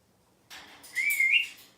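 Buster the cockatoo lets out a short, bright whistled call that rises and wavers for about a second after a brief rustle, clear and fairly close in a quiet room.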